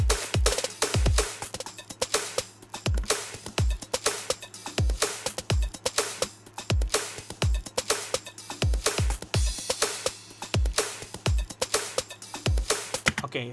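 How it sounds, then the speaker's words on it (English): Crisp, tight hi-hat and percussion hits in an electronic music production track, ticking in a steady syncopated pattern over a low sustained bass tone, dry and close with no vocals. "the hi-hats, it sounds like this."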